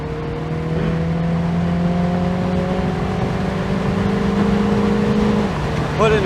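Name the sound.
MINI Cooper S Convertible accelerating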